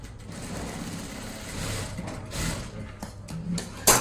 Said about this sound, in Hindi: यहाँ पे पहले एक बार सिलाई लगाएंगे